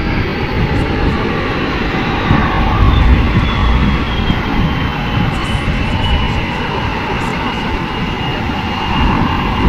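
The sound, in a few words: LCH helicopter flying at an air show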